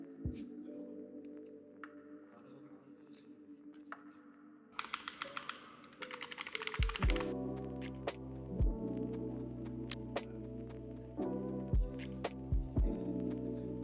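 Keys on a MelGeek MADE68 Hall effect magnetic-switch keyboard clack in short irregular bursts over a steady low hum. Later the typing is joined by several deeper thumps. The keystrokes are close, with no voices.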